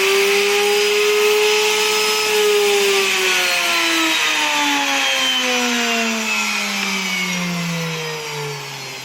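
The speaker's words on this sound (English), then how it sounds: "Then the router." A router mounted in an all-in-one combination power table with fence, running steadily with a loud, high whine whose pitch slowly glides downward as it spins down toward the end.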